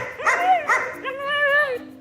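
Young puppies at a guard-dog bite work class yelp twice in quick succession, then let out a longer drawn-out whining cry, close and loud.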